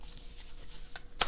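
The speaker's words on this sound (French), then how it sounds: "Je vais prendre 5 cartes puisque c'est l'année 2021" Tarot cards from a Light Seers Tarot deck being drawn: faint, close papery rustling, then one short, crisp card snap just before the end.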